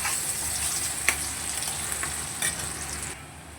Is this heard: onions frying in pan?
yes